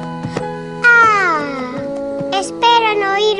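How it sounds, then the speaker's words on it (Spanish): A cartoon cat meows several times in drawn-out, pitch-sliding cries, close and fairly loud, with a short pause between calls. "No era un monstruo, solo era Gilbert. Ese gato"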